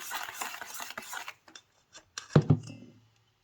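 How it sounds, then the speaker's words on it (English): Sugar and egg whites for macarons are mixed in a bowl with a utensil, giving soft scraping strokes followed by a few sharp clinks against the bowl before silence. "So mix it very well together. So all the sugar is mixed with the egg whites,"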